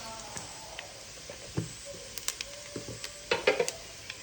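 Homemade pickle with turmeric and chili powder stirred in a hot pan, a soft sizzle beneath irregular scraping and tapping of a spoon against the pan, the strokes growing busier and louder toward the end.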